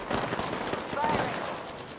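Rapid automatic gunfire in a video game, a dense continuous fusillade of shots under faint radio-style chatter, fairly loud throughout the short burst.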